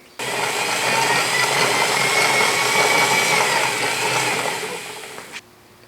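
A Model A Ford transmission cutaway driven in first gear, spinning up abruptly into a loud, steady whine and gear-mesh hum that holds for about five seconds before cutting off cleanly.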